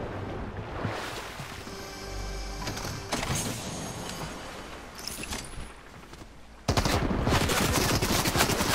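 Gunfire in the Fortnite video game: steady rapid automatic shooting that keeps up without a break and grows louder and denser near the end.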